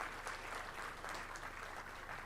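Sustained applause from the audience at a college of law annual day, a steady dense wash of clapping with no break, moderately loud and fairly even throughout.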